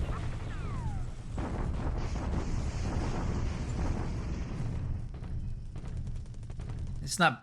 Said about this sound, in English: allies bombarding us at Brisbane